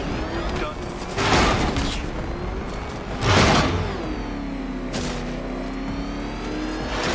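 The Batmobile in Batman: Arkham Knight drives with a heavy engine rumble, two loud whooshing surges and a rising motor whine, close and dense with game noise.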